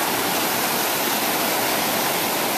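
Warm sea water washes in over a beach at Perranporth, making a loud, continuous rushing hiss close by with no voices over it.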